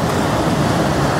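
Water rushing steadily through a canal at Daha Dam near Bhanjanagar, Ganjam, a dense continuous broadband roar with wind-like hiss, close and loud throughout with no talking.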